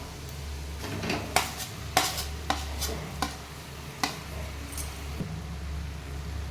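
A spoon stirring potatoes and peas in a pan: soft scraping under a low steady hum, broken by a handful of sharp clinks against the pan at irregular intervals, close and quiet, with no voices.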